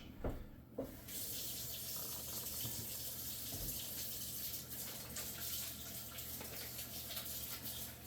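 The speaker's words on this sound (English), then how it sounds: "So I'm just going to give my hands a quick wash." Hands are rinsed under a running kitchen tap: a steady, close stream of water with splashy shifts at the start, going on without talk.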